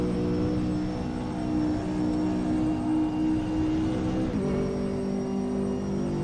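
A race car engine in the RaceRoom racing game, muffled as if heard from inside a helmet, drones steadily with layered harmonic tones and a brief pitch shift near the end, with no talking.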